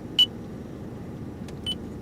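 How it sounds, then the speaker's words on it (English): A short, clear electronic beep from the voice recognition system in a 2014 Scion iQ, followed by a couple of fainter chirps in a quiet car cabin. "After the beep, say a phone command."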